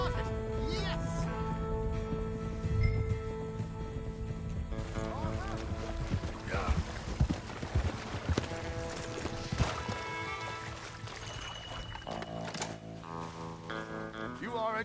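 Horse hooves clip-clop rhythmically in the Red Dead Redemption 2 video game, steady and mid-distance beneath game music and character dialogue.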